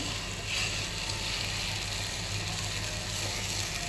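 Fish sizzling as it goes into hot oil seasoned with lemon, a steady broadband hiss of frying that runs close and continuous throughout, with no talk over it.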